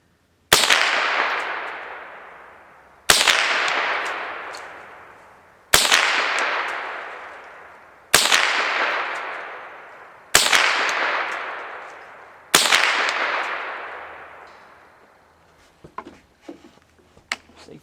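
Six evenly spaced shots from a KelTec SU-22 rifle ring out at outdoor range, each a sharp crack about two seconds apart with a long fading echo, followed by faint small clatters.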